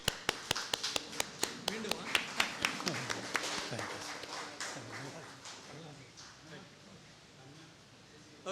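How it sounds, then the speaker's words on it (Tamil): Standing applause from a lecture audience breaks out with sharp, rapid claps that build into a dense burst, then thins and fades over several seconds in a hall with some background murmur. "நாம் எல்லோரும் நன்றியுடன் அவருக்கு எழுந்து நின்று கைத்தட்டி வணக்கம் சொல்லுவோம்."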